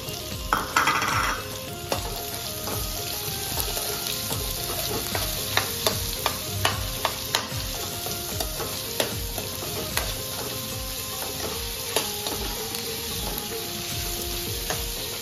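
Chopped onions frying with golden-browned garlic in a pan for a dried bombil and fenugreek dish, a steady close sizzle broken by frequent sharp scrapes and clicks of a spoon stirring against the pan, no voices.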